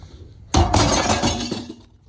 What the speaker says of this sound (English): these carboys go into big shards